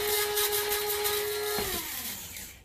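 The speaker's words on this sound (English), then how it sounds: "we're going to grind that up" An electric grinder whirring steadily as it grinds seasoning seeds for al pastor, a loud continuous motor whine that drops in pitch and winds down near the end.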